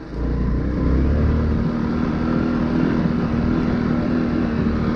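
Honda Cross Cub 110 motorcycle ridden in first gear, its small engine droning loud and close with a steady pulsing hum after a brief low rumble at the start.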